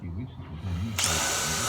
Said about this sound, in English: So what we're doing is plunging in, and the drill works a lot easier because that's what it's made for